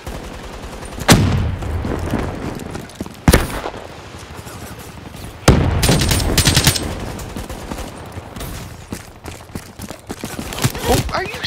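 Gunfire in the video game Black Ops 3: loud bursts of automatic fire and sharp single shots recur throughout, with players talking over the shooting.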